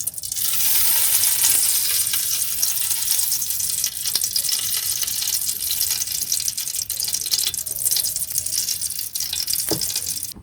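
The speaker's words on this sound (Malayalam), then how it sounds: "മുന്തിരി അണ്ടിപ്പരിപ്പ് വറുത്തെടുക്കാനുള്ള നെയ്യ് ഇതിലേക്ക് ഒഴിച്ചു കൊടുക്കാം" Ghee heats in a pan for frying cashews and raisins for a home-style village chicken dum biryani. It gives a steady close sizzle and hiss that runs without a break, with a faint clink near the end.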